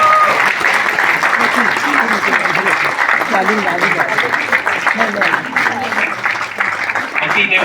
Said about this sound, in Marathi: आपण टाळ्या सुरू ठेवूया.